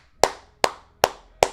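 Four sharp hand claps, evenly spaced and close, ringing out alone with no talk.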